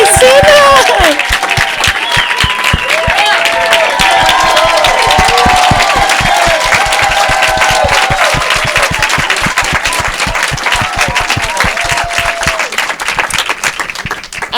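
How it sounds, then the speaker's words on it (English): An audience at a film screening breaks into loud, sustained applause with cheering, a dense wash of clapping that carries on for many seconds and slowly thins toward the end. "we could give them a round of applause"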